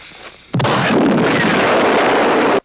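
A movie explosion erupts suddenly with a loud, sharp blast, then a sustained roaring rumble that fills the rest of the moment before cutting off abruptly.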